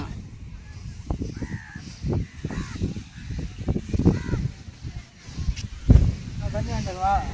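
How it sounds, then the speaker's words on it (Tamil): Crows cawing at a beach during a family summer outing, several harsh repeated caws sounding fairly close over surf and wind, with people talking in between. "ஏய் காக்கா கடிக்கும்."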